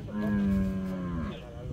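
A cow lets out a single drawn-out moo, close and fairly loud, lasting about a second before fading.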